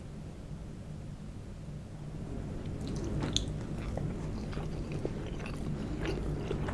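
Crispy bacon is bitten and chewed close up, with crunchy snaps and munching that start a few seconds in and continue steadily over a low background rumble.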